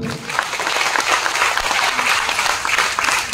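Sustained audience applause at a mentor's success and testimony event, dense and steady throughout without letup, fairly loud and close.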